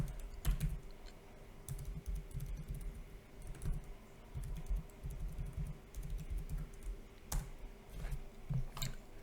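Someone types on a computer keyboard in quick, uneven bursts of soft clicks and taps, fairly quiet and close, with short pauses between runs of keystrokes and no talking.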